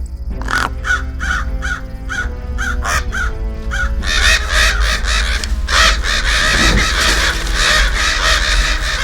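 Several crows caw in a steady series of loud, harsh calls, then a denser wash of cawing and noise builds over a low rumble.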